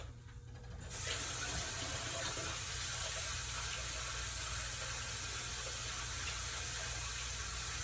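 Hands rinsed under a running kitchen tap while cooking, a close, steady gush of water that starts abruptly after a brief quiet moment and pours on evenly.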